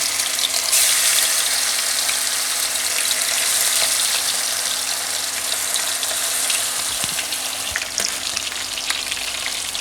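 Marinated chicken malai tikka sizzles loudly in a hot pan, a dense continuous hiss and crackle that stays strong and close for the whole stretch, with a couple of soft knocks near the end.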